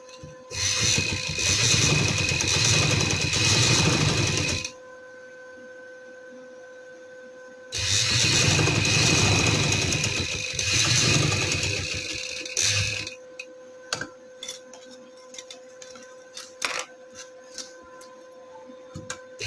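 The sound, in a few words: sewing machine stitching a neckline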